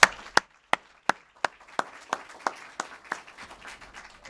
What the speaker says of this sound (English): Final round of applause for all our panelists and for yourselves.